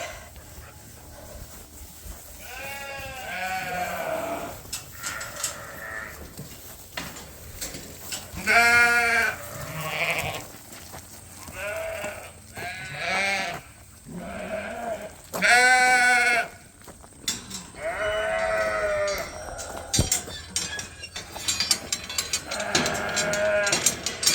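A flock of sheep being moved between pens on a farm bleats repeatedly, loud overlapping calls from several animals at close range, with bursts of shuffling and rustling between them.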